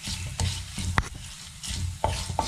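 Coconut pieces sautéing in a pan, with a steady sizzle and repeated sharp taps and scrapes of a spatula against the pan, heard close up without talk.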